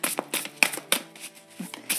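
Oracle cards are shuffled for an angel-wisdom reading, making quick crisp riffling bursts in a steady rhythm. The sound is close and clear, with no voices over it.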